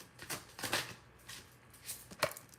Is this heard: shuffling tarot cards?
yes